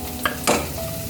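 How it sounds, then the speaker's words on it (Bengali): Flour frying in butter is stirred in a pan, giving a couple of brief scraping strokes over a soft, steady sizzle. "ময়দাটা একটু বাটারের মধ্যে নেড়ে, দেখুন কতক্ষণ নাড়ছি"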